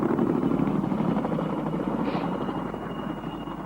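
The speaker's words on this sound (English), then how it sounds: "the roar of helicopter engines." Helicopter engines roar in a jungle war zone, a loud, continuous rotor thrum and whine that fades slightly toward the end, with no voices.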